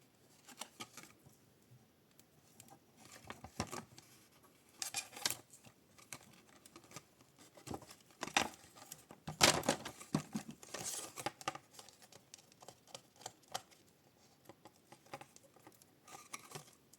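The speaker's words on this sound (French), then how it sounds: "Je vais mettre du double face et de la colle que ça tienne." Double-sided tape and glue being applied to cardboard for a storage box, quiet close-up crinkling, tearing and tapping patter in irregular bursts, with a louder cluster of rustles partway through.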